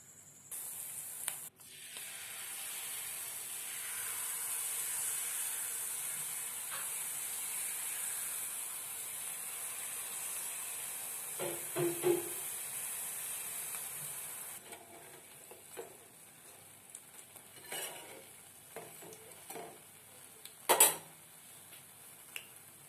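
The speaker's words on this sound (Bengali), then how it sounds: "এক সাইড হয়ে গেছে আর একটা সাইড ভেজে নেবো" Steady, fairly quiet sizzle of jalebi batter frying in hot oil in a home kitchen, a continuous crackling hiss with occasional clinks of utensils and a louder scrape near the end.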